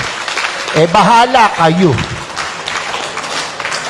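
At a political rally, an audience applauds as a loud speaker talks over it. A wash of clapping continues steadily beneath and after the voice.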